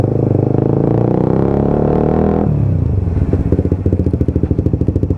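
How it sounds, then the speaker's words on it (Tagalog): A Suzuki GSX 150 motorcycle runs loudly and close during a front brake test, its steady engine drone breaking midway into a choppier, pulsing idle with light mechanical clatter. "Ayan, mag brake test tayo guys sa front muna."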